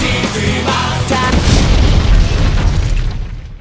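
An explosive barrel in the video game Anger Foot blows up: a loud booming explosion with a broad rumbling blast that decays over a few seconds.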